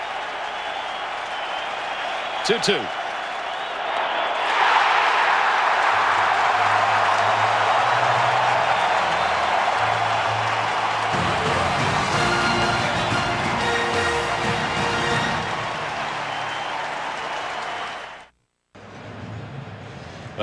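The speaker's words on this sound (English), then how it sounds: "And the crowd roaring for another strikeout." A baseball stadium crowd at a 2003 playoff game between the Yankees and Twins roars for a strikeout, a sustained wash of cheering and applause over many seconds with brief play-by-play talk.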